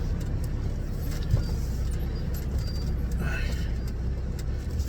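Lorry engine droning steadily while driving, a low, even rumble heard from inside the cab at moderate level, with faint road noise and no clear changes in pace.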